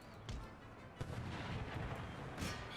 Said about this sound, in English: 6-pounder artillery.